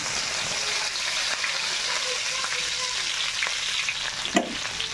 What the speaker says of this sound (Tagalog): Brown na ang luya, ilagay naman ang bawang at sibuyas.